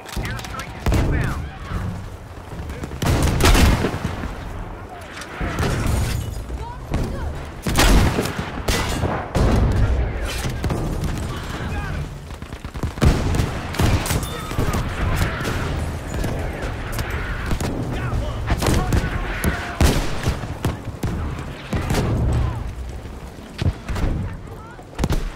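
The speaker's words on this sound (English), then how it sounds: "We need an artillery barrage sent to this location!" Battlefield 5 Pacific Storm Breakthrough match: a dense, continuous barrage of rifle fire and artillery blasts, with heavy booms and rapid shots layered for the whole stretch, loud and close, and shouted voices mixed into the combat.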